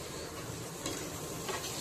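Onions with turmeric and salt sizzle in hot oil, making a short, even, close frying hiss with faint stirring scrapes.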